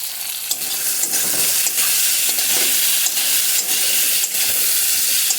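Drumstick (moringa) pieces frying in a pan with turmeric and salt while being stirred: a steady loud sizzle with repeated scraping strokes throughout, no voices.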